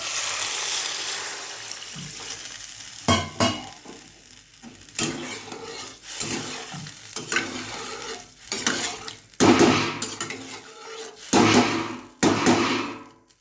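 A pan of sautéed food is stirred with loud scraping strokes over an ongoing sizzle, then water poured in brings bursts of hissing and bubbling, all close with no talking.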